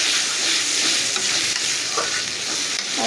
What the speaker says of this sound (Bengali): আর এখানে হচ্ছে আমি এই যে মাছ রান্না করে নিব টমেটো দিয়ে